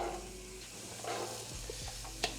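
Vegetables sizzling in melted butter in a pan for chicken soup, a soft continuous frying hiss with a few faint stirring sounds and one brief clack near the end, heard up close with no talk.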